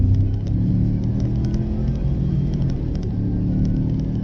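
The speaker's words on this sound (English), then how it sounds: "Let's hear this turbo." A turbocharged car's engine rumbles steadily from inside the cabin as the driver floors it, a low continuous drone with no voices over it.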